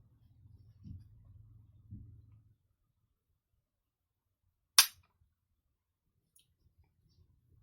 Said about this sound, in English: let's just measure the trigger pull